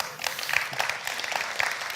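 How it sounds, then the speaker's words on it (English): Brief, moderately loud round of applause from an audience at a tech talk, a steady patter of many hands clapping without voices. "So that is live marketing. Round of applause."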